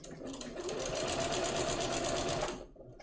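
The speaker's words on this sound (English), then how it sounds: "Using what's called a walking foot for my sewing machine." A sewing machine fitted with a walking foot stitches quilt layers in one steady, fast, close-up burst of rapid mechanical chatter lasting a few seconds, then stops.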